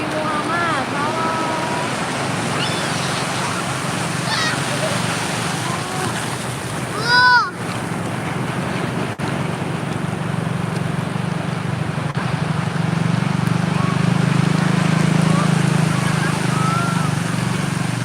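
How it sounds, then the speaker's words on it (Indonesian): Big ocean waves roll and rumble at Sawarna beach under wind buffeting the microphone, with people talking throughout and a louder surge of surf toward the end. "Aduh, ombaknya gede."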